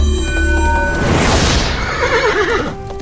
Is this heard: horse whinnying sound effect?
yes